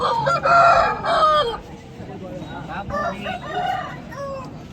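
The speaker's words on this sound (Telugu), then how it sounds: "ఈ లైన్ వచ్చేసి అన్ని సేలం కోళ్ళు అండి సేలం నుంచి వచ్చినాయి మొత్తం ఇవన్నీ" Salem fighting roosters at a Sunday rooster market in Vijayawada crow loudly and repeatedly nearby, with clucking and further crows overlapping against background market noise.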